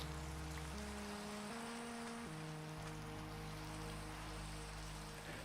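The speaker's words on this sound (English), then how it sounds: "Can you guys hear the rain?" Steady rain falls in the video game Minecraft, a continuous even hiss that holds at a constant level throughout, with low sustained game music tones layered beneath.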